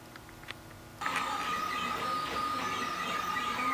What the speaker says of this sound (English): Here is a completed TRESTLE 3D printer. Right now it's printing at over 80 millimeters a second.